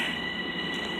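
Eastbound Long Island Rail Road train with one headlight out passing close by on the Main Line, a steady loud rumble of wheels and cars with high metallic ringing, alone without voices.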